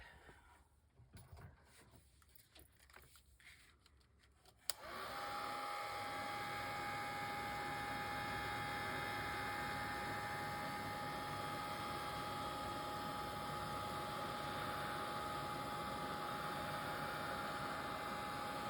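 A handheld heat tool drying ink on a page at a desk switches on abruptly after a few quiet seconds with light handling, then blows a steady, loud, even airy roar with a faint whine until the end.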